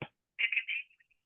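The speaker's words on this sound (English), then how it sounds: "I'm going to dial into a demo restaurant environment that actually has a AI bot answering the phone." Dialing and ringing on a phone call to a demo restaurant line answered by an AI bot: a brief burst, then a short pause and a series of tonal beeps that fade into quiet.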